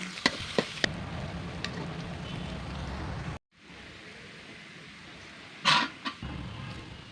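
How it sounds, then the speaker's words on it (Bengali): Whole spices for a phoron temper fry in hot oil for a banana ghonto curry, giving a steady close sizzle with a few sharp pops early on, a brief cutout, then a quieter sizzle with one loud crackling burst. "আমি ফোড়নটা আগে দিয়ে উঠিয়ে রাখবো।"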